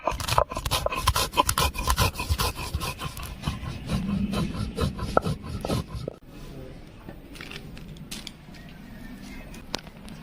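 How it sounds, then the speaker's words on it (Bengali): Black pepper is crushed on a traditional grinding stone in a village kitchen, with repeated scraping and grinding strokes in an uneven rhythm that ease off partway through. Soft, faint background sounds come through now and then. "তো বন্ধুরা, গোলমরিচটা এখন বেটে নেব।"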